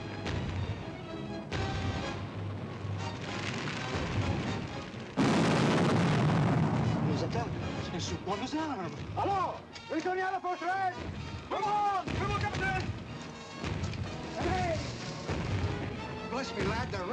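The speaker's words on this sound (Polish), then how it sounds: "Działa generała Amhersta." General Amherst's cannon fire in a Fort Ticonderoga colonial battle booms in heavy, rolling blasts, with one loud burst standing out among ongoing rumbling, layered under shouting voices and dramatic commotion.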